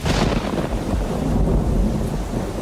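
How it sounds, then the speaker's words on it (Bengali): A thunder effect in a horror audio drama, a heavy, rumbling roll that booms in at the start and keeps rumbling deep and loud under a wash of rain, with no talking. "মাঝে মাঝে বাজ পড়ার শব্দে যেন থরথর করে কেঁপে উঠছে বাড়িটা"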